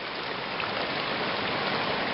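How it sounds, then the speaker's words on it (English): A small side stream pours off a main river, a steady, close, even rush of flowing water with no breaks and no voices. "Here you can see a little side stream coming out"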